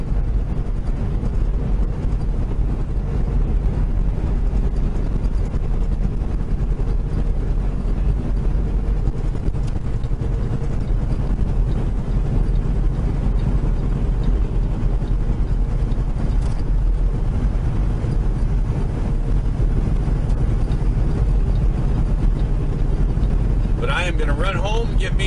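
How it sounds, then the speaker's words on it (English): Gusty wind blows outdoors, a steady broadband rush with low rumble buffeting the microphone throughout, loud and continuous without letup. "Really windy out here."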